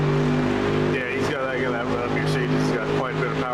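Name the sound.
race car engine at Spa in iRacing video game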